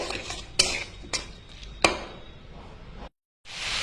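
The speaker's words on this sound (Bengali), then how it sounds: "এর মধ্যে আমি এখন দিয়ে দিচ্ছি টমেটো পেস্ট। আমি আরো 2 মিনিট ভালো করে কষিয়ে নেব।" A utensil scrapes and stirs ginger, chili and tomato paste in a frying pan, with a soft sizzle underneath and a few sharp knocks against the pan, close by; the sizzle drops out briefly, then returns.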